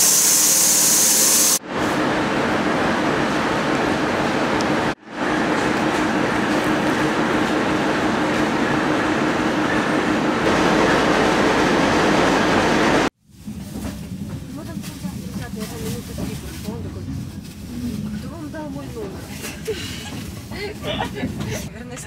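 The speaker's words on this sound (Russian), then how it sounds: "Кстати, поезд не маленький, парочку вагонов всего." Short passenger train of a few cars running from Minsk to Grodno, heard from inside as a loud, continuous rumble and rushing noise, with brief cuts and a rougher, more varied rattle in the last stretch.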